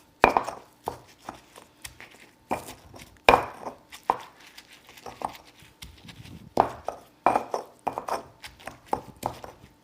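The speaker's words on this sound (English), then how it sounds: "you're just going to muddle your cilantro just like we did the onion" Cilantro is muddled in a bowl for roasted guacamole with a steady series of dull pounding thuds, close and fairly loud, in an irregular rhythm. No one speaks.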